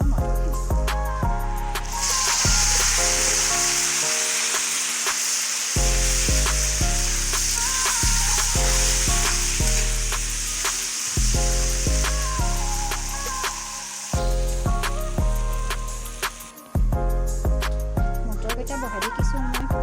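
Boiled peas fry with turmeric in a pan for ghugni, giving a steady bright sizzle beneath continuous background music.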